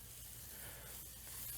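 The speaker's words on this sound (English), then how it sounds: "Get that nice sizzle going." Butter sizzles in a frying pan as a Reuben sandwich gets started, a soft continuous crackling hiss with no speech.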